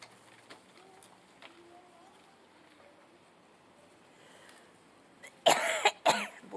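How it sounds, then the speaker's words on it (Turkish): Two loud, harsh coughs burst out near the end after several seconds of quiet room noise with faint distant chirps. "Ot beni boğdu öksürdü."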